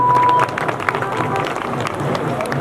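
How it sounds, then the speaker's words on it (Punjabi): Audience applause at a Punjabi village welfare society stage event, a busy spread of claps lasting the whole stretch, joined by crowd noise and a brief steady tone at the start. "ਖੁੱਲ੍ਹ ਕੇ ਤਾੜੀ ਲਾ ਦਿਓ ਲਖਵੀਰ ਬਰਾੜ ਜੀ"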